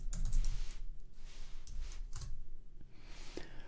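A computer keyboard being typed on at close range, a short burst of soft clicking keystrokes with brief pauses between them and no voices.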